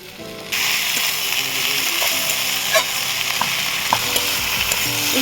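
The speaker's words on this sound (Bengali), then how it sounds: "পেঁয়াজ শাকটাকে মশলাটা ভালো করে কষাবো" Spring onion greens fry with spices in a pan for a fish curry, a loud steady sizzle that jumps up sharply after a quiet start, with occasional scraping stirs and faint clinks.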